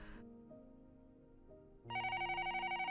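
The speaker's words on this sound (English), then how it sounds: "The next moment, the phone rang." A telephone rings loudly with a rapid pulsing electronic trill that starts suddenly after a short stretch of soft background music and keeps going to the end. No speech.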